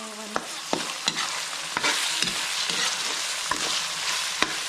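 Alamang shrimp paste with plenty of chilies fries in oil, giving a continuous bright sizzle punctuated by sharp clicks and scrapes of a stirring utensil against the pan.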